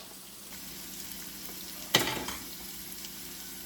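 Rosemary potatoes frying in a pan: a quiet, steady sizzle that swells into a sudden loud crackling burst midway as fresh rosemary goes in, then settles back down.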